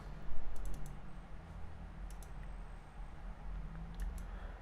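Soft, close typing on a computer keyboard, a quiet patter of key clicks over a low background hum.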